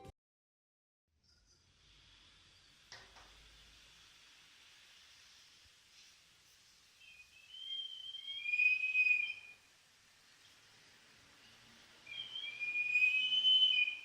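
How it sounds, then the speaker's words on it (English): Breathy, airy whistling from an ancient pottery whistling vessel tilted with water inside, rising in two swelling bursts after a quiet hiss, soft and close with no talking. "When the other vessel tilted with water inside, the air in the vessel moved towards the slit"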